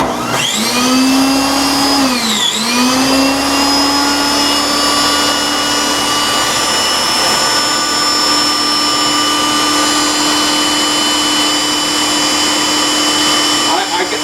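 Roasted peanuts are pulsed in a blender into peanut butter. The loud, close motor whine briefly drops and recovers near the start, then runs as a steady high drone for the rest.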